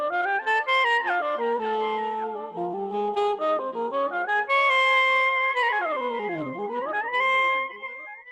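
Saxophone run through an auto-wah pedal, a loud solo horn line with sweeping, vocal-like filter swells and bending pitch slides, played alone with no talking.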